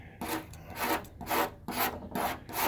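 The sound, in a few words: razor blade scraping automotive paint off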